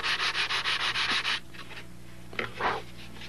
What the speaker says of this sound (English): in cases like this, there's nothing better than that big sanding block